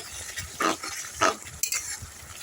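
A spatula scrapes and stirs a banana flower mixture seasoned with turmeric and salt in a pan, giving a few soft, rough bursts over a quiet background with no talking.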